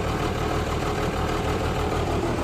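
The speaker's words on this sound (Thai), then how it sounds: "เครื่องยนต์โอเคนะครับ การทำงานโอเคนะครับ" A Kobelco SK200-3 excavator diesel engine idles steadily, a dense continuous rumble heard close up and alone, without voices.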